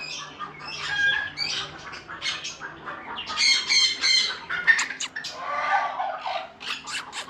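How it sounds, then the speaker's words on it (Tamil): Many birds squawk and chatter together in a busy, continuous chorus of harsh calls, fairly close, with no one speaking, in South Goa. "பறவைகள்லாம் இருக்குது அழகாக வந்து இங்கே."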